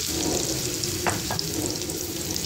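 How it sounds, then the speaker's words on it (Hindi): Onions frying in hot cooking oil for a mutton karahi, giving a steady, fairly loud sizzle throughout with a couple of brief clinks near the middle. "5 मिनट मैंने प्याज को फ्राई किया है कुकिंग ऑयल में"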